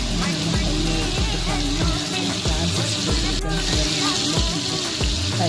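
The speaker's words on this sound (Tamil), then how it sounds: "கொஞ்சம் கூட நல்லா டீப் ஃப்ரை ஆகும்" Brown 65 pieces frying with curry leaves in hot oil, a steady dense sizzle and crackle heard up close, with some low thumping and rumble underneath.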